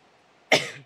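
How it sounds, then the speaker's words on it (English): A single sharp cough bursts out once in a quiet room, loud and close, fading quickly after about a third of a second. "When I stop singing, I start to cough."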